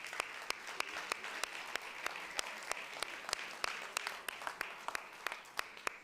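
Audience applause at a short-film award ceremony: a steady bed of many hands clapping at moderate distance, with a few sharper individual claps standing out regularly throughout, no talk over it.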